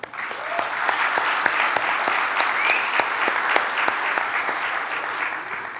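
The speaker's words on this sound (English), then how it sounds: "Let's hear a round of applause for them as well." Steady applause from a conference audience thanking the event's sponsors, many hands clapping in a dense, sustained wash with sharp individual claps standing out, evenly loud throughout.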